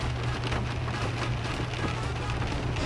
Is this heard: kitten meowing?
no